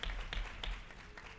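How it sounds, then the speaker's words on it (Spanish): Faint audience applause at a panel discussion: a short patter of claps with a few sharper taps, distant and brief. "Aplaudimos."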